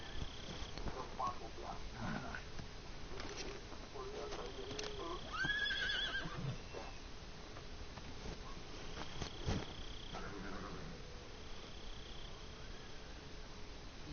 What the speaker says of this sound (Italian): C'è un cavallo bianco.